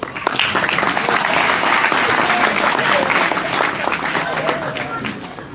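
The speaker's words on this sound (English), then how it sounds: "Everyone clap, please." An audience claps steadily at a cricket academy awards ceremony, a dense, even patter of many hands sustained for several seconds, with faint voices underneath.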